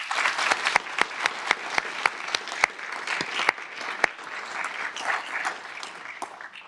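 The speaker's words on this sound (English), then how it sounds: "I think we deserve a great round of applause for each and every one of us" Crowd applause at a university class commencement ceremony, steady clapping from many hands filling the hall, with a few louder sharp claps standing out near the mic throughout.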